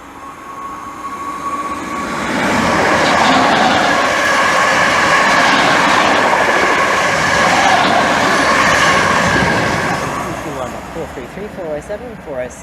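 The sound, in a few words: passenger train from Southend Victoria to London Liverpool Street passing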